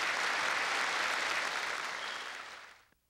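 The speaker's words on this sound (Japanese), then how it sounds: "皇太子殿下、美智子妃殿下は演技が終わるまでちびっ子たちに拍手を送られ" Applause for children performing a fire safety routine at a municipal fire service anniversary ceremony, a broad sustained clapping that fades away and stops near the end.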